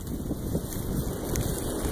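Wind blowing outdoors during a mushroom hunt near Atchison, Kansas, a constant rough rumble buffeting the microphone with no pauses, loud and close throughout, no speech.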